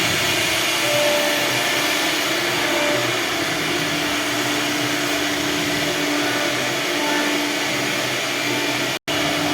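A CNC machine carves decorative designs into wooden doors and bed frames, giving off a loud, steady machine whine and rushing motor noise that holds without a break until a sudden brief drop near the end.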